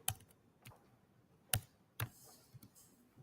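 Keys on a computer keyboard tap in a lecture setting, a few sparse, sharp clicks spaced irregularly, faint and close, with no talk over them.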